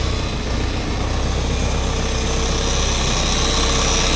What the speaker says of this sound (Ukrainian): Повний привід, 4-циліндровий двигун.